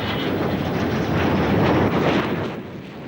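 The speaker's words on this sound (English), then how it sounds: "The Concorde demonstrates its responsiveness at low speed and altitude" A Concorde supersonic airliner flying low and slow, a broad roaring rush that swells louder midway and then eases off, heard without talk.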